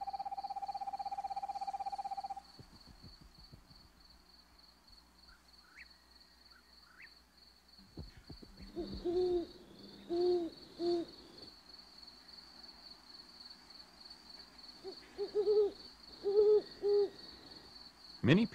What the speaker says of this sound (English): Many people have heard an owl hooting